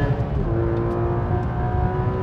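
A Porsche 991 GT3 RS accelerates hard on a track, its engine note climbing steadily in a loud, sustained whine heard from close by, with no talk.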